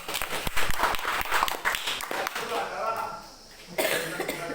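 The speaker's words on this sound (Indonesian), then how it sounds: "Tepuk tangan dulu untuk Juli." Students in a classroom peer-teaching session clap for a classmate, a brisk burst of clapping that thins out after a couple of seconds as talking and a cough take over.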